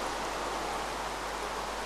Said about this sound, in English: it has been raining so many times